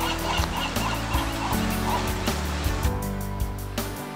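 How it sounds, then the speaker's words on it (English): Shorebirds cry at tide pools over a dense, loud wash of sound, their repeated calls blending with a steady background layer throughout. "Hear the cries of shorebirds."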